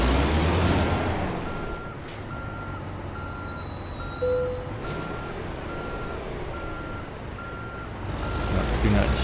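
A Kenworth W900 truck in American Truck Simulator backs into a parking spot, its reversing alarm beeping in a steady, evenly spaced rhythm over a low engine rumble, with a brief air-brake hiss partway through.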